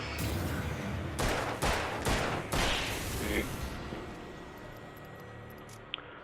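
Gunfire in the video game Alan Wake comes as a few loud, close, broadband blasts in quick succession in the first half, then fades into a steady background hum with one small click near the end.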